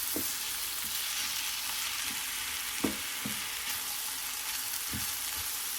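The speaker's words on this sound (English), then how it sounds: "We'll patiently fry them until they attain a delightful translucency" A pan of ingredients fries steadily with a soft, continuous hiss and crackle, while a utensil gives occasional dull knocks and scrapes against the pan.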